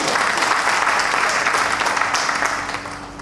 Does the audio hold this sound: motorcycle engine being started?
no